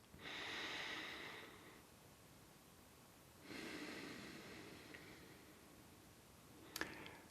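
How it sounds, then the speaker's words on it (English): Deep breaths in and out through the mouth, quiet and close, with two long exhalations separated by a pause and a faint click near the end. "Just take 3 deep breaths."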